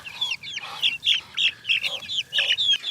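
Young chickens in a pen with ducks cluck and chirp nearby in a steady series of short, bright calls, with no talking.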